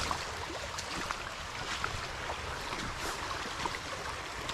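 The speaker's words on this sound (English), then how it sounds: "it's too loud in the creek" Loud creek water rushes and gurgles steadily over rocks throughout, a broad continuous wash close by with no voices.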